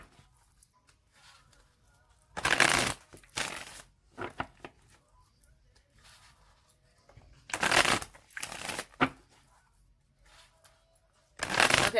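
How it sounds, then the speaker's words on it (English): A deck of tarot cards being shuffled in several loud, separate bursts of riffling, with quiet pauses between them and no talking. "Okay, so I'm going to shuffle it 3 more times."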